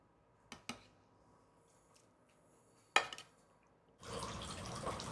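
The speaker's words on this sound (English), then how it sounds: "take some of these juices in here. We're just going to pour it right on the chicken" A couple of metal clinks, then a steady splashing pour of roasting juices over chicken for the final second, close and fairly quiet.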